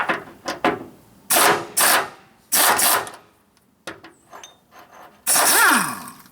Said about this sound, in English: So let's get a big ratchet and see if we can get that off.